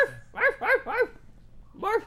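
A human voice imitates a dog, giving three quick barks in a row, then a pause and one more bark, all loud and close.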